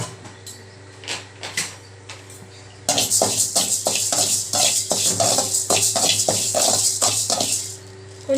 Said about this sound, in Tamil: இப்போ அதை போட்டு இதுவே வந்து 2 பேட்சாக வறுத்து எடுத்துக்கலான்னு இருக்கேன்